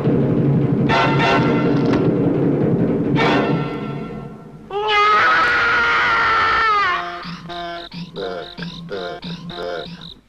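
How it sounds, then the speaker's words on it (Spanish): A loud, drawn-out scream rings out in the Mortadelo y Filemón game El Armario del Tiempo, rising in a sustained wail before breaking into shorter shrieking bursts. "¿Has oído ese grito?"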